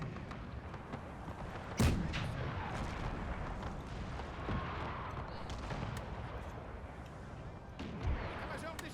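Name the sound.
musket and artillery fire in the video game Napoleon: Total War (Era Mod)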